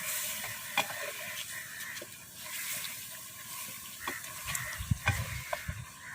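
Chicken frying with masala in a pan sizzles steadily and close, while a spoon stirs and scrapes through it with occasional sharper knocks, no voices.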